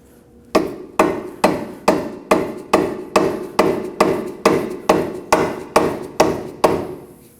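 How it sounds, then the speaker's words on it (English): Rubber mallet tapping a ball joint into the steering knuckle of a 2016-2020 Kia Sorento, about fifteen evenly spaced, firm thuds close by at a steady rhythm, with no talking. "And using a rubber mallet,"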